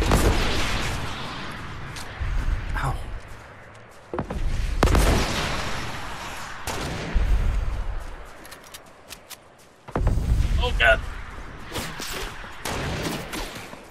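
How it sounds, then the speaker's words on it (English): Rockets exploding in Fortnite hit as a series of loud booming blasts spaced a few seconds apart, each with a sharp onset and a rumbling tail, separated by quieter gaps. "Oh, rockets coming."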